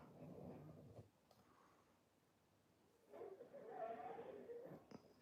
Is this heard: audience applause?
no